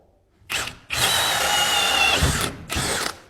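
A power drill bores a 1.5 inch hole through a bathroom wall for plumbing, loud and close, in three bursts: a short spin, a long steady run of about a second and a half, then another short burst.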